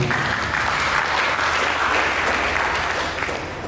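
A church congregation applauding during a sermon, loud, dense clapping that fills the space steadily, with no voices over it.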